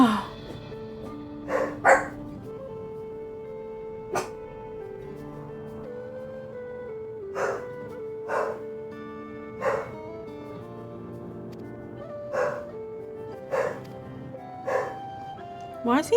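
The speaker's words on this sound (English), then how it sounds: "Why is he barking?" A dog barks in scattered single yips and short bursts, fairly close, while a person talks over much of the stretch.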